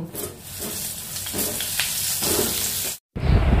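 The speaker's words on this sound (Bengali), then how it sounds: "মাছগুলো তুলে নেওয়ার পরে এবার ওই তেলেই আমি পটলগুলো ভেজে নেব।" Pointed gourd (potol) frying in the same oil just used for rui fish, giving a steady close sizzle with soft stirring clatter, broken by a brief silence near the end before a louder crackle.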